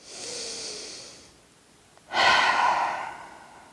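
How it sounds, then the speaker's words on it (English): Deep breathing during a yoga-style breath practice: a long, fairly loud exhale that fades, a pause, then a sharp, forceful breath through the nose, close to the microphone. "Inhale and exhale."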